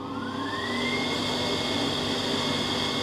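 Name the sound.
screen printing table vacuum running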